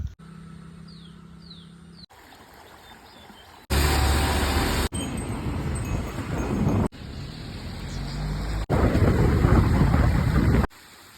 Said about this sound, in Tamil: காலையிலேருந்து மழை அடித்து நொறுக்கிட்டு இருக்கு.